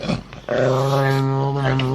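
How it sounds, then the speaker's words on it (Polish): A dog growls in warning at a person, a low steady growl with a whimpering, whining edge that holds for about a second and a half after a brief rougher opening; close and fairly loud. "On dalej warczy, jakoś pojękuje, ostrzega, natomiast nie atakuje tego człowieka."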